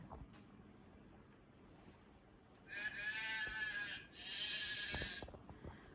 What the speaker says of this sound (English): There was a sheep?